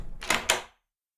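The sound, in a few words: door closing, radio drama sound effect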